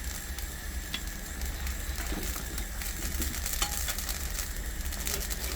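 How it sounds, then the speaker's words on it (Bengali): Eggplant curry with fried eggplant bubbling and sizzling in a pan, a steady close crackle with occasional light utensil taps and no talk. "ঝোলটা খুব সুন্দর করে ফুটে গেছে। এখন ভেজে রাখা বেগুনটা দিয়ে দেবো।"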